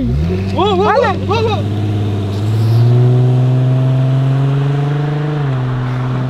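A car with a 4-litre V6 rated at 210 horsepower revs up, its engine tone climbing and holding a steady loud drone while people talk over it.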